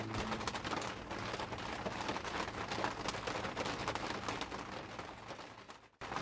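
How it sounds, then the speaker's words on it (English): Rain falling under sunshine near a gravel pit at Lake Havasu, a steady dense patter on surfaces with continuous hiss and scattered drop impacts, briefly dipping near the end. "it's raining and the sun is right there, shining like crazy"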